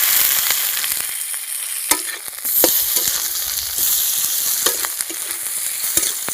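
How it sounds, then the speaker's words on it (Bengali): Onion, green chilli, tomato and spices sizzling and crackling in hot oil for a fish curry with taro and potato, with steady frying hiss broken by sharp stirring scrapes and clatters, near and without talk. "এই সব মশলা ভালো করে ভেজে"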